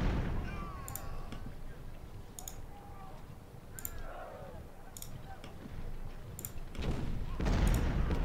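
Distant booms of cannon fire from a Civil War strategy video game (Ultimate General: Civil War) thud at regular intervals, with crackling and faint clicks layered over a rumbling battlefield ambience.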